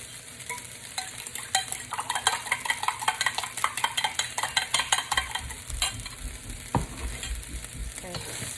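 Sesame chicken fries in a pan with a loud, close sizzle while it is stirred, the spatula clattering against the pan in an irregular rhythm, with no talking.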